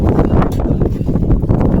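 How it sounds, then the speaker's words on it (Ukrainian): Strong squall wind buffets the microphone with a loud, constant rumbling roar and gusty rustling throughout, in cold air after snow. "Вітер сильний."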